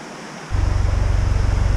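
A leaky canal lock pours out a loud steady roar of gushing water. Partway through, a heavy pulsing low rumble joins in, like wind buffeting the microphone, and no one speaks.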